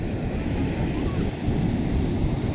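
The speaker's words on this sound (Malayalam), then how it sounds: "അതിലും ആ വലിയ തിരമാല ഇങ്ങോട്ട് വന്ന് അടിച്ച് കയറിയിട്ട് അത് കൊണ്ടുപോകുമ്പോഴേ നല്ല ശക്തിയോട് കൂടിയിട്ടാണ് കയറി വരുന്നുണ്ട" Big ocean waves surge and crash onto a beach shore, a steady low rumbling roar of surf with wind noise, continuous and close.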